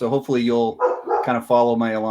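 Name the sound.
dog barking in the background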